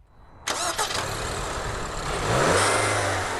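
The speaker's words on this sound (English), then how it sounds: "the Evoque uses a direct injection turbocharged 4-cylinder engine" A 2012 Range Rover Evoque's direct-injection turbocharged four-cylinder engine cranks and starts with a sharp catch, settles into a steady idle, then gives a brief rev close by.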